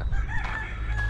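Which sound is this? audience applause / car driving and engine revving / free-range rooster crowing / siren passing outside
free-range rooster crowing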